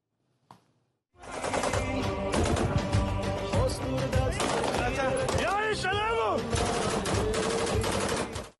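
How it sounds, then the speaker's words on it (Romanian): Sustained bursts of rapid automatic gunfire aimed at residential apartment buildings in the Ukrainian city of Mariupol, loud and dense, rattling almost continuously after a single sharp shot at the start, with overlapping rounds and echoes. "Cecenii trag rafale de gloanțe în direcția apartamentelor rezidențiale din orașul ucrainean Mariupol."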